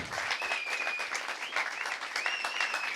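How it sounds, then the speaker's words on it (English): Clapping from an audience at a talk at The Hospital Club, steady and continuous, with whistles or cheering cries rising above the applause. "Let's give Eric a great big round of applause"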